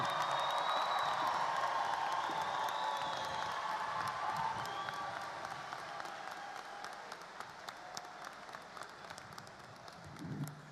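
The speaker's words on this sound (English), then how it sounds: "How about a round of applause for our class of 2021?" Sustained applause from a large high school graduation crowd, steady and loud at first, then gradually thinning out toward the end.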